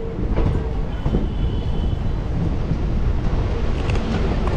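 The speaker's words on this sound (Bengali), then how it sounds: "আমাদের এই train, DEMU train Siliguri two Lataguri train ছেড়ে দিল।" A DEMU passenger train runs from Siliguri toward Lataguri, heard from on board as a loud, continuous rumble and rattle with a few faint squeals and no talking.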